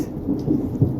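Low, rumbling thunder rolls with steady rain underneath during a supercell thunderstorm in Ohio, loud and continuous with a brief swell near the end.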